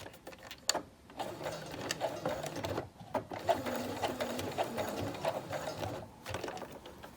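A sewing machine stitches a ballet bodice, running in rapid, even bursts of mechanical chatter up close, with brief pauses between runs as a few stitches are backstitched.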